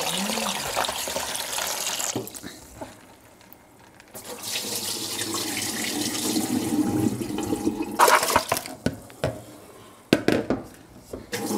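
Rice is rinsed in water under a running kitchen tap for a Korean meal, with water streaming and splashing in uneven surges and brief swishing bursts, quieter stretches between them.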